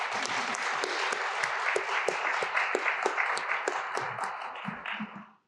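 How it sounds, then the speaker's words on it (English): A room full of audience members gives panelists at a Pasadena tech event a sustained round of applause, dense steady clapping at moderate distance that swells briefly and then cuts off near the end. "Let's show our appreciation for their participation with a round of applause"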